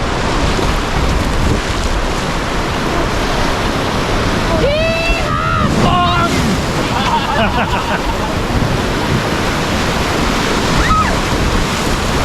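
Whitewater rapid called Snapdragon on a river rafting trip near Pigeon Forge, heard as a loud, continuous rushing roar of churning water up close, with brief shouts and voices breaking through the noise midway.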